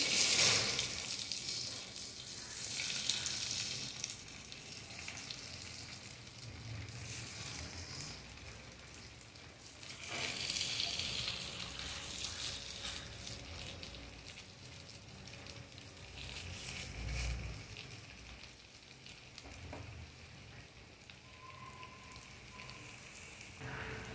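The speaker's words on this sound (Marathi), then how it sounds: "आता आपण पॅनवर फ्राय करूया" Leftover rice cutlets frying in a little oil on a flat pan, a soft, steady sizzle with gentle crackles that swell and fade in a few quieter waves, with no talking.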